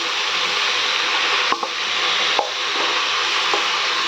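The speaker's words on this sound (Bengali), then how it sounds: "এখন আমি এই চিকেনটা দিয়ে দেবো।" Chicken pieces rubbed with salt and lemon juice fry in butter among vegetables in a pan, a steady close sizzle with a few sharp clicks of a spoon or utensil against the pan, no voices.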